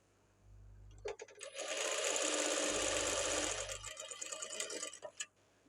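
Electric sewing machine stitching a blouse, running in one loud, steady burst of rapid needle clatter for about three seconds before slowing and stopping, close up with no talk.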